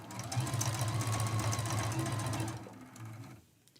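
Quilt strips feed through a sewing machine along a marked line, a close, steady rapid whir that slows and stops near the end.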